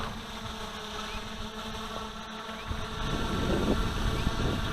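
A Q450 quadcopter running ArduCopter hovers hands-off in Loiter mode, its motors giving a steady buzzing whine, with wind buffeting the microphone and growing stronger toward the end.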